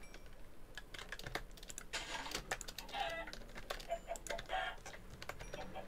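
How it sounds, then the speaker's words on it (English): Chickens being killed in the Minecraft video game: short clucking squawks pop up now and then amid a dense, steady patter of keyboard and mouse clicks, with no talking. "I'm just killing all these chickens."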